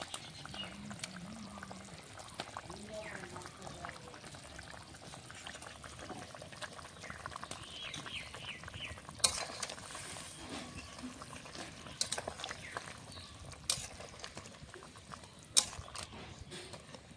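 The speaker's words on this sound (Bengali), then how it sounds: "আমার তরকারিটা ফুটে উঠেছে" Rupchanda fish and potato curry bubbling in a pot, a soft, low continuous simmer with faint bubbling and occasional sharper clicks and clinks, quiet and close.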